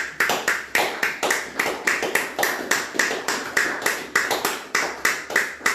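A congregation at a midday prayer service claps in a steady, loud rhythm, with sharp regular beats filling the whole stretch and no voices over them.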